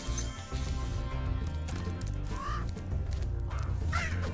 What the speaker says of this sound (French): Je sais pas si c'était un corbeau